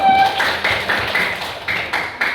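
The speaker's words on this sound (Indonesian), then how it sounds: "Tepuk tangan dulu untuk kelompok 1." Clapping from a classroom group honouring group 1 during a teaching practice session, a steady patter of many hands that runs the whole stretch with no one talking over it.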